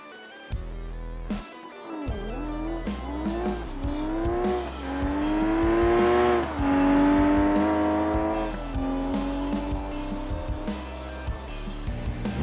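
A BeamNG video game ETK I-Series drag car roars down the strip at Bradenton, its engine climbing through rising gear sweeps, loud and continuous, with brief shifts between rising pitches.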